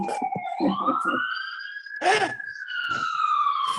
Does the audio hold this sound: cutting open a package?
no